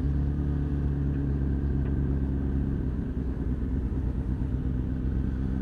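A Honda CB1000 Hornet SP motorcycle engine hums and rumbles steadily at close range while riding, a smooth low drone with light clatter and no talking.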